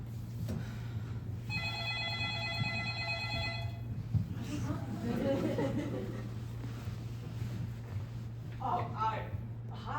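A telephone ring with a bright electronic trill lasting about two seconds during a call, heard under and between people talking, with a low steady hum throughout.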